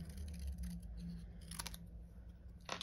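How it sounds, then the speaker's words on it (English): Scissors snip finely around a card sentiment word on a craft desk, a few soft cuts with brief louder clips near the middle and end over steady low background hum. "So I'm going to cut quite finely in, so that I just get the word I want."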